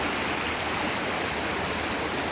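Creek water rushing steadily over rocks at Moonshine Creek Campground in Sylva, North Carolina, a continuous broadband wash close by with no pauses and no voices.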